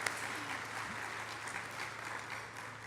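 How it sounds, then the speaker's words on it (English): An audience at a charity breakfast event gives a round of applause, a steady wash of clapping that stays even from start to finish with no voices on top. "Quick round of applause for the dream sponsors."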